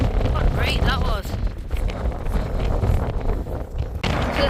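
Gale force wind buffeting an exposed wild camping spot, a continuous heavy roar and rumble battering the microphone throughout, with a person talking over it.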